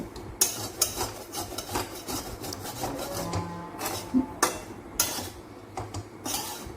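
Moong dal dry-roasting in a pan, a repeated gritty rasp of a spatula scraping and turning the lentils, with light metallic knocks, close and moderately loud.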